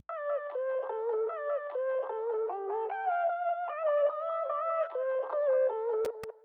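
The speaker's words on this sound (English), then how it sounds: "So these vocal chops by themselves sound like this." Chopped vocal snippets in an electronic dance track, run through delay, reverb and auto panning, form a steady rhythmic melodic pattern that swings between left and right, playing alone and moderately loud, ending with a couple of sharp clicks.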